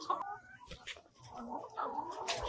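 Chickens cluck and murmur close by inside a hoop house shared with rabbits at Polyface Farms, short uneven calls over low background noise.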